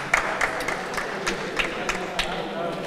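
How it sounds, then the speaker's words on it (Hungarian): Scattered claps from a home crowd ring out in an indoor handball hall during a men's league match, sharp and sporadic over a steady murmur of the arena. "Megszólal az első taps is. Hazai részről."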